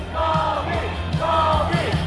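A crowd of Indonesian fans yells Cobie Smulders's name in unison at a live fan event, two loud rising-and-falling chants of many voices, close and filling the room.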